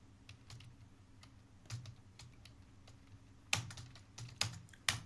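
Keys clatter on a computer keyboard as a party name is typed into TallyPrime accounting software. Bursts of close, crisp clicks come in uneven runs, with louder strokes near the end and no talking.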